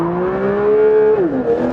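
A Porsche on a race circuit revs and accelerates hard, its rising engine note holding loud and near before dropping at a gear change and pulling again.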